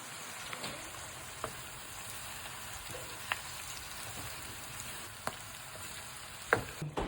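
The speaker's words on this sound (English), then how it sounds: "Now I'm going to be mixing" Food, including ground beef, gets stirred and mixed in a sizzling pan, a steady frying hiss with scattered light taps and scrapes of the utensil, close by and without any voices.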